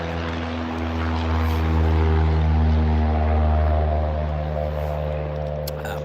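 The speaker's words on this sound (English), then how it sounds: "You know, the plane's going off behind my house." A propeller airplane from a nearby airport passes low over a house backyard, its steady droning engine tone swelling in the middle of the stretch and easing off toward the end, loud and continuous with no talk.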